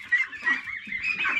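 Domestic ducks honking and quacking in a duck house, a steady overlapping chorus of nasal calls from several birds close by, with no talk.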